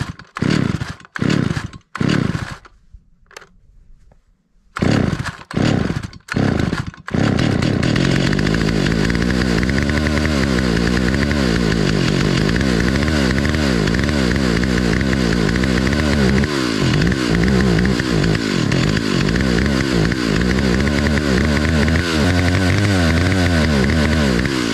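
An antique Stihl 028 Wood Boss chainsaw, running after low-speed carburetor adjustment, gives a few short sputtering bursts and a pause, then catches and runs steadily with a loud, continuous rough drone.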